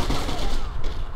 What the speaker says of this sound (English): Gotta find out where this shot's coming from.